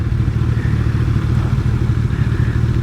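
A Hayabusa sport motorcycle being ridden, its engine holding a loud, steady, close drone with a low rumbling pulse and a rushing layer of wind and road noise throughout.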